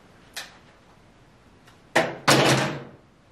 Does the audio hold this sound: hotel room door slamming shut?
yes